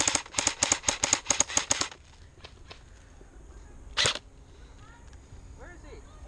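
Airsoft gun shooting during an outdoor skirmish: a quick burst of sharp snapping shots, then one more lone shot a moment later, with voices heard in the background.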